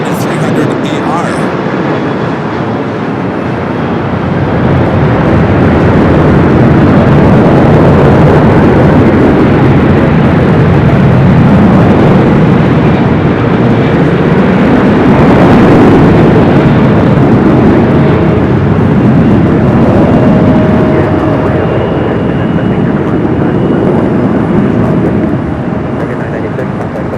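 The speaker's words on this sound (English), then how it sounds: "Coming in from Manila on this 13-year-old 777 at 300 ER." A 13-year-old Philippine Airlines Boeing 777-300ER arriving from Manila lands at LAX, its jet roar loud and sustained, swelling and easing as it passes, with broadband engine noise throughout.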